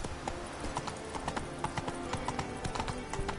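Horse galloping in The Witcher 3 video game, a fast, rhythmic clip-clop of hooves repeating steadily throughout, close and clear over a low ambient bed.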